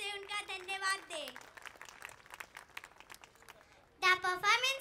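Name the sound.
audience applause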